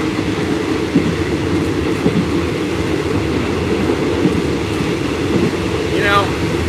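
A passenger train to Kanchanaburi, Thailand rumbles steadily along the tracks with a continuous low roar and occasional clatter, while people talk over it.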